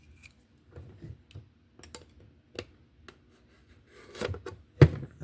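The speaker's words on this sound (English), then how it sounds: "Actually, where's my knife? I'm just gonna cut it." A knife slices through a sticker seal on a plastic slot car case, a series of sparse, quiet scratches and small clicks ending in a sharper snap near the end, with no speech.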